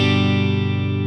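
An electric guitar played through an Amplitube 5 California Tweed amp model rings out in one sustained, slightly distorted chord with a gentle wavering shimmer, loud and close.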